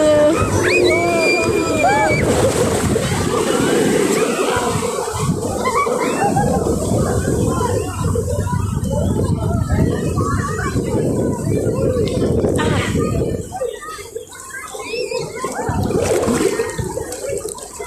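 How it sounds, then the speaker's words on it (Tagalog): Strong ocean waves surge and wash at Bondi Beach, a loud continuous roar of churning water that stays close and heavy throughout, dipping briefly before building again, with voices partly mixed into the surf. "napakalakas talaga ng wave"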